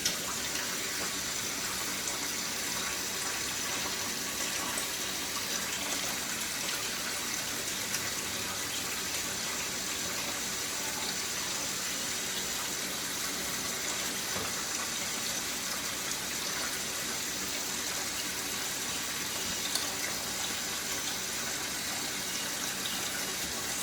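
Steady water running from a kitchen tap, a continuous broadband hiss that holds evenly at a moderate level and stays up close for the whole stretch, with no voices over it.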